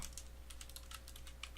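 Quiet keystrokes tap on a computer keyboard while typing a new object name in Unity, a quick irregular run of soft clicks with no voices.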